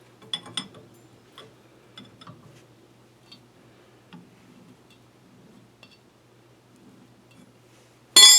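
A 24mm wrench tightens car suspension parts, giving sparse, faint ratcheting clicks and metallic ticks at irregular intervals, with a louder rattling burst at the very end.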